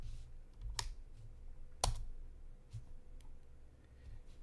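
A few separate keystrokes on a computer keyboard, including backspace presses, click crisply and sparsely with pauses between them in a quiet room.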